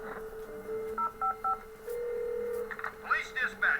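DTMF dialing tones from a phone box in the video game Destroy All Humans 2: a few short, evenly spaced beeps, then a steady tone, followed by in-game voices talking.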